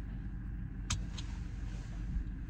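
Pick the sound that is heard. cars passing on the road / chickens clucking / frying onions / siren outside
cars passing on the road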